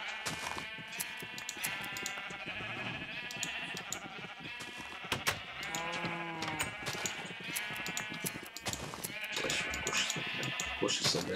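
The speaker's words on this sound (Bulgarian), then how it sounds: "Защото имам много овце." Sheep in the Minecraft video game bleat repeatedly, with several wavering calls overlapping a busy backdrop of game sounds and clicks, while someone talks over them throughout.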